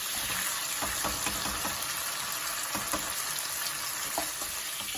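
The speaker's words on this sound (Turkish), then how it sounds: "Aynı yağda şimdi aynı şekilde de patlıcanları kavuracağım." Eggplant and peppers sauté in hot oil for a Turkish mixed-vegetable preserve, producing a steady, soft sizzle broken by scattered stirring clicks and scrapes throughout, with no voices.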